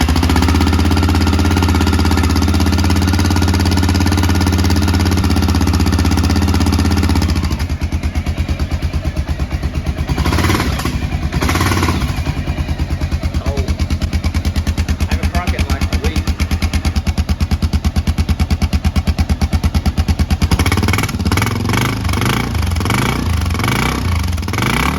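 A Honda XR650L motorcycle engine with its stock muffler's baffle cut out idles loudly and throbs with a rough, pulsing beat, then revs up toward the end.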